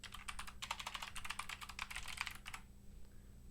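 Quiet typing on a computer keyboard, a rapid run of light key clicks for about two and a half seconds, then stopping, with no voices.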